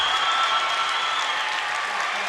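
Home crowd at a McBain varsity boys basketball regional final against Beal City roaring and applauding in a steady, dense wash of cheering, with shrill whistle-like yells riding over the sustained noise throughout.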